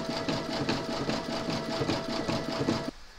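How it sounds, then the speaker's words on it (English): An embroidery machine sews a satin stitch border for an in-the-hoop medical rescue pouch, giving a steady, fast rhythmic whirring and clacking that runs loud and close on its own for about three seconds before it stops abruptly. "you're now going to do the satin stitch border"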